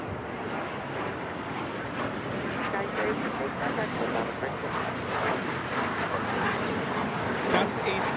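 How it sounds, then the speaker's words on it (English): A Cessna Citation CJ2 business jet takes off at LAX, its engines giving a moderate, continuous jet roar with a thin high whine over it, steady and somewhat distant. "That's a Cessna Citation CJ2 taking off to Salt Lake City"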